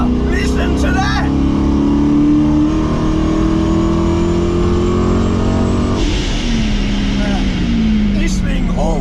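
Supercharged 2010 Chevrolet Camaro SS with TorqStorm supercharger, 6 pounds of boost and about 550 wheel horsepower, roars loudly while driving, engine note climbing through sustained revs with a brief shift, close and continuous.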